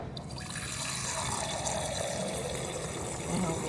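Filtered water from the fridge pours into a glass, a steady hissing trickle running close and unbroken for several seconds, rising slightly as the glass fills.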